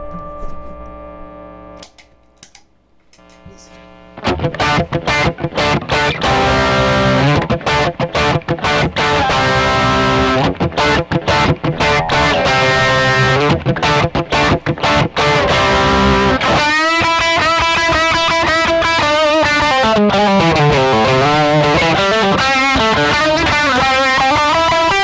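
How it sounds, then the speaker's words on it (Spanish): A Squier Classic Vibe electric guitar by Fender plays through crunch and distortion: a few sparse notes, then loud, sustained, heavily overdriven chords and riffs, with sliding bends near the end and no talking. "Ahora vamos a escuchar la crunch y distorsión."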